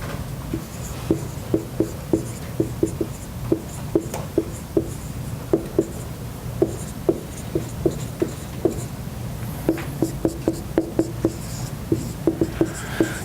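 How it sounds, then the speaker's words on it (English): A pen or marker taps and scratches out short notes on a board or page during a fitness talk, with quick irregular strokes and clicks over a low steady room hum and no speech. "we'll write some of these down"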